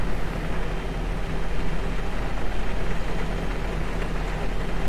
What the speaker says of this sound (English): It's a good start on engine number 2, so we'll start engine number 1.